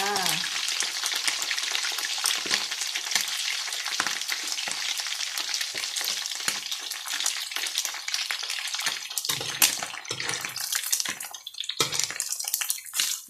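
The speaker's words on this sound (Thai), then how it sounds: "เสร็จแล้วเราเอามาทอด หมูแดดเดียวจ้า" Sun-dried marinated pork deep-fries in hot oil with a loud, continuous crackling sizzle, close up and dense throughout, with bursts of spattering popping over the steady roar.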